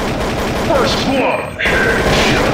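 Grenade blast and gunfire in Counter-Strike: Source, loud and dense bursts of shots with a sharp boom, a short dip, then more firing, with game voices mixed in.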